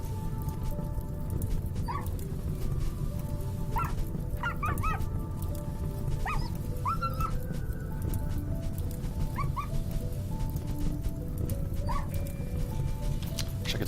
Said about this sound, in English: Can we save the dog?